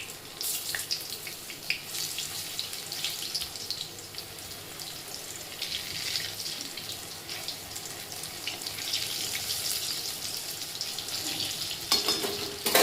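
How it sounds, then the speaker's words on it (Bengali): Chana dal koftas sizzle steadily in hot oil in a pan while they are turned over one by one, a continuous close crackle with faint scraping and no talking. "এক পিঠ ভাজা হয়ে গেছে, এবং এক পিঠ আমি আস্তে আস্তে করে উল্টে দিচ্ছি"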